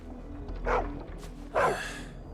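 A dog in Final Fantasy 16 barks twice, about a second apart. The barks are close and fairly loud over a low background hum.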